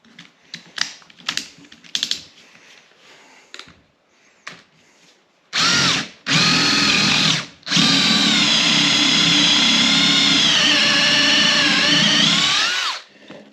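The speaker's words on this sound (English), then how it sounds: "I'm not crazy about that thing drilling too deep." Scattered tapping and rustling give way to a power drill boring into a black walnut log, running in short bursts, then grinding steadily for several seconds, loud and close.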